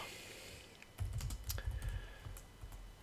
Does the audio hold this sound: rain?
no